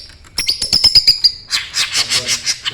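A canary gives a close, loud burst of rapid repeated chirps followed by a run of harsher, rhythmic squawking notes.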